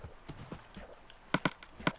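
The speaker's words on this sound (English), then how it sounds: "it is a quite slow horse" Horse hooves clip-clop in a video game, a few sharp hoofbeats landing in an uneven, slow rhythm near the end, with quieter, softer steps before them.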